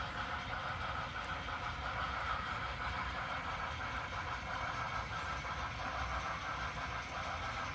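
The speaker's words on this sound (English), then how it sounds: "since both trains are coming in, just let this run for a bit" Model trains running on a model railway layout, a steady, even mechanical rumble and whir of small motors and wheels on track, continuous and fairly close.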